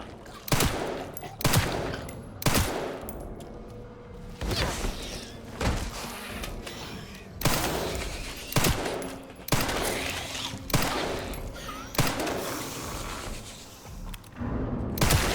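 Gunfire in the survival horror game Resident Evil Requiem, set in a care center basement: repeated heavy shots at irregular intervals, each with a booming tail, alongside thuds and impacts.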